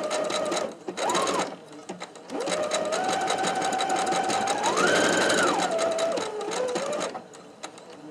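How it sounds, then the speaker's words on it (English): A sewing machine runs in bursts, then whirs steadily with a rising and falling pitched motor tone and rapid needle clatter, close by. "my sewing machine sings. It's not the quietest machine in the world"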